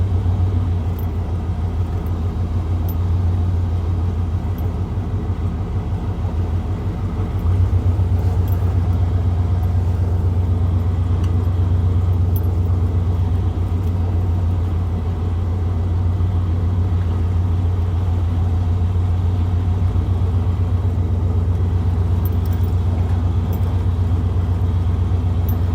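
A vehicle rolling over a gravel road in the woods, a steady close engine rumble with low crunching road noise, continuous and unbroken, growing slightly heavier partway through.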